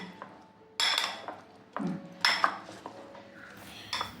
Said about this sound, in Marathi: आता मी याला चमच्याने हलून घेते म्हणजे व्यवस्थित मिक्स होईल